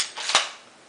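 A rifle bolt released forward, giving a single quick metallic click, close and fairly faint, followed by a short fading ring with no talk.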